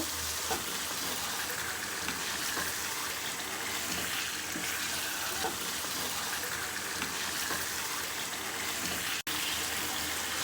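Chicken pieces for chicken bhuna sizzle and fry in a pan of spice paste made with cumin powder, a continuous close crackling hiss with a sharp clack near the end.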